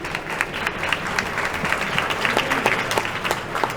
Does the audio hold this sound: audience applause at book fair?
yes